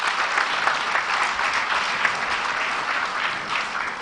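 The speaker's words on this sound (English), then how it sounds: "please a round of applause for her" An audience at a Nigeria Customs Service event in the FCT claps steadily and loudly, a dense even wash of applause with no speech over it.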